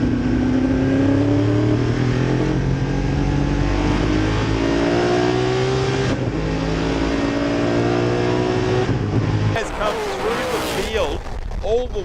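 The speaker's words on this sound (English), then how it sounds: "He's just driven past Ran Jr., who is in 6th" A race car's engine revs loudly and steadily during a race at Calder, with rising pitch sweeps as it drives past, heard under continuous commentary talk.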